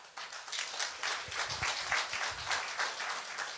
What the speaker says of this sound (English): you just stand up and we clap for them